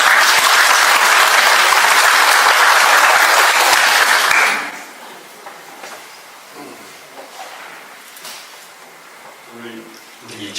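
A loud burst of church congregation applause, dense and steady for about four seconds, then it cuts off abruptly into quiet room noise.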